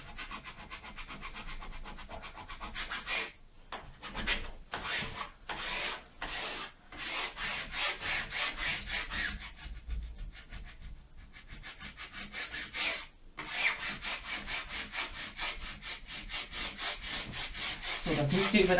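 A plastic squeegee rubs a vinyl wall decal firmly onto smooth white-painted plaster, freshly painted and without wallpaper, in repeated close scraping strokes with short pauses between passes.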